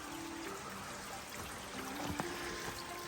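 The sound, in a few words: small drainage stream trickling across a trail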